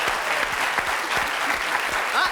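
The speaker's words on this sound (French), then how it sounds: "vous applaudissez" A studio audience on a French TV talk show claps in steady, dense applause that stays even and fairly loud throughout.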